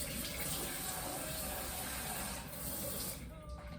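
Tap water runs steadily into a sink as pumpkin seeds are rinsed, a continuous close splashing flow that fades slightly near the end.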